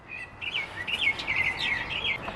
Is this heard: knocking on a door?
no